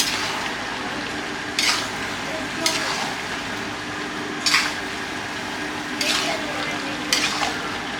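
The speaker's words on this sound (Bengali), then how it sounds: "এখন চিকেনগুলো দিয়ে দিব। এত সুন্দর করে নাড়াতে হবে।" Chicken pieces stirred in a pan for a spiced chicken kasha, steady soft frying hiss broken by about five sharp scraping strokes of a spatula spaced a second or two apart, close by with no talk.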